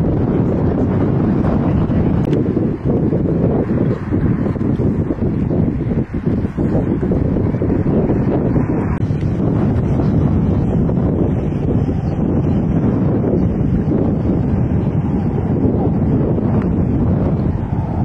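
Wind buffeting an exposed microphone outdoors, a loud, steady low roar with rumbling gusts that persist for the whole stretch.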